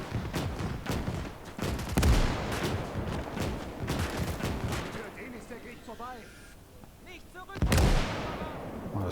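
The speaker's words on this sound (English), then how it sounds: "Telltale sounds for mortar." Mortar fire in the World War II strategy video game Gates of Hell, with heavy booming impacts and bursts of gunfire rolling through the battle, two strong blasts standing out, while someone talks over the action.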